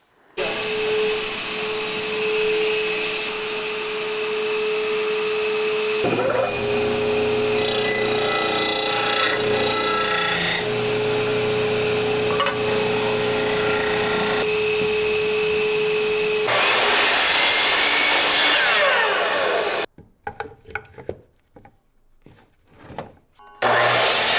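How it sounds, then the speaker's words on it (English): A disc sander grinds and shapes burl wood and resin pieces, a loud, steady whine running continuously as the pieces are pressed against the disc, then it spins down, with a few scraping knocks after it stops. "Some will be a little bit bigger, it's a little bit too big, so I'll just take them over to the disc sander."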